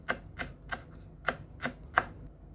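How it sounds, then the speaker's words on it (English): A knife chops fresh cilantro leaves on a board, six sharp, separate taps at an uneven pace, close and fairly quiet with no voices. "And now let's cut our cilantro leaves."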